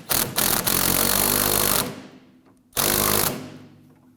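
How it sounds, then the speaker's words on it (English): Power tool running a 14mm socket to tighten trailing arm bushing bolts on a 2008-2011 Ford Focus, two loud whirring bursts of the tool with a short pause between, close up and without talk. "We're going to use our 14mm socket and do this."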